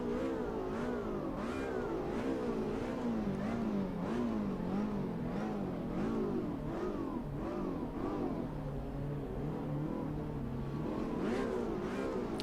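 A Ferrari race car engine in a racing video game revs loud and close throughout, climbing and dropping again and again in a fast, wavering rhythm of gear changes.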